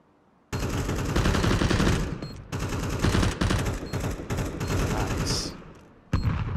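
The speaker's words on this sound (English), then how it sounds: "Out with the shotgun." Loud, sustained shotgun fire and rapid gunshots in Counter-Strike 2, near and dense, with bursts running nearly continuously and a brief pause before firing resumes.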